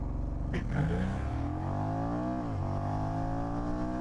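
Honda Rebel 1100 motorcycle accelerating hard from a standstill toward 60 mph, the engine note rising steadily through a gear change with a brief dip before climbing again, loud and close throughout.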